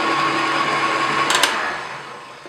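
An electric mixer whirs steadily through red velvet cake batter as buttermilk is mixed in, a loud close motor hum with a brief rattle midway, then easing down toward the end.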